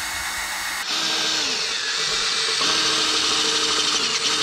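Power drill boring a 12.5mm pin hole through a metal gate bracket, a steady loud whine that dips in pitch under load and surges again, running continuously close by with no talk.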